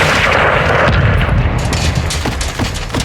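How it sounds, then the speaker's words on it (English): An incoming missile explodes in the Modern Warfare II campaign, giving loud, heavy booms and rumbling blasts with sharp crack-like reports toward the end. "We've got an incoming missile."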